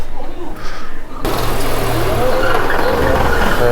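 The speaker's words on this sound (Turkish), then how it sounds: "üstte arabalar geliyor." Cars drive past on a street in Yazd, a steady engine and tire rumble that comes in suddenly and stays loud and close after a brief quieter start.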